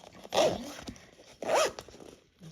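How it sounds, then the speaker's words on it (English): A ready-made zipper on a sewn fabric pouch is zipped in two quick, close rasping strokes separated by a short pause, crisp and clear against a quiet background. "And zipper up."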